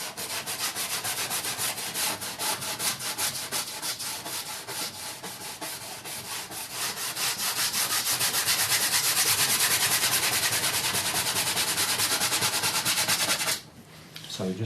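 A paintbrush scrubs green paint dulled with Venetian red onto canvas, producing a loud, continuous, close rasping rub with fast rhythmic strokes. It stops abruptly near the end.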